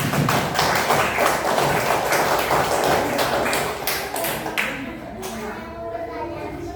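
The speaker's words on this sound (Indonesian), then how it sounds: "Tepuk tangan buat Almira" A classroom of students clapping for a classmate who has just finished reading aloud, a dense close patter of many hands that fades out after a few seconds.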